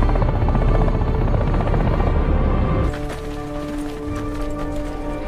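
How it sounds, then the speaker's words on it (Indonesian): Helicopters attack from the air during the Russia–Georgia war: loud, continuous rotor thudding with a fast chopping rhythm, a heavier rumbling layer that shifts partway through into a steadier whine, and no voices. "mereka mengerahkan beberapa helikopter untuk menyerang lewat udara"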